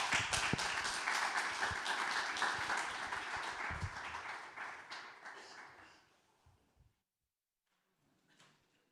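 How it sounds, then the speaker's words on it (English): A conference room full of people claps loudly and continuously for a panel, then the applause gradually thins out and fades to silence, with a few stray claps at the end. "please join me for a massive round of applause to our wonderful panelists"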